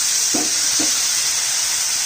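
Spice paste sizzling loudly in a hot pan as a little water is added for a vegetarian potato curry; a steady bright hiss runs throughout, broken by two short splashy bursts near the start.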